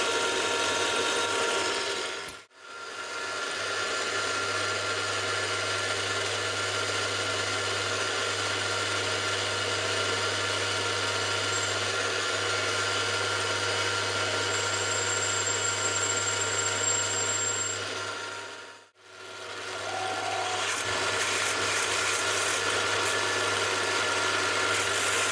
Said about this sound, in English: Spot drill.